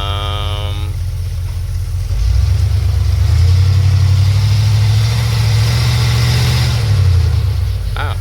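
A 1990 Ford E-150 Econoline van with a 5.8L engine and E4OD transmission that won't shift into 3rd or 4th, its engine heard close and loud, idling then revving up and holding a steady higher drone before easing off.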